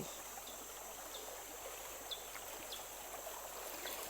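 Steady rushing and trickling of cold river water swirling around feet while wading, close and continuous with faint splashes.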